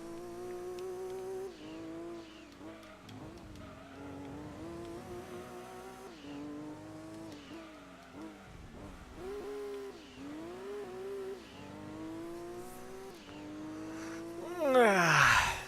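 The Daishin Sylvia race car in Gran Turismo 2 roars through a race, its engine whining up and down through gear shifts, with a burst of tire squeal and louder noise at the end.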